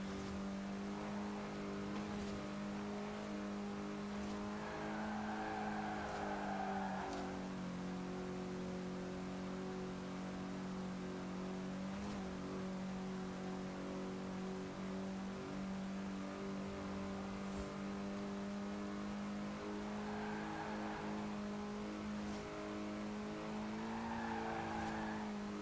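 A car engine drones steadily in Forza Horizon 4 racing, holding a constant hum with shifts in pitch and bursts of tire squeal now and then.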